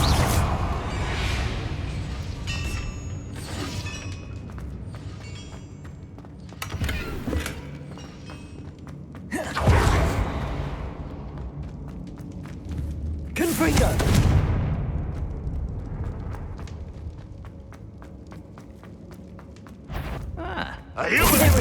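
Fire spells blasting in a Hogwarts Legacy battle, several loud bursts with sweeping whooshes at irregular intervals over game music, effects and voices.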